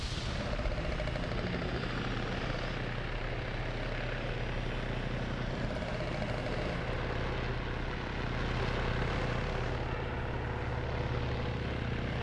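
Helicopter in a military video game where US Marines fight bugs, a loud continuous rotor and engine drone with a low throbbing hum filling the whole stretch.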